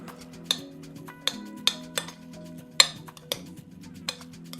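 A chickpea 'tuna' mixture is stirred in a bowl set on a cloth-covered board, with a series of sharp, close utensil clinks and taps spaced irregularly over a quiet background.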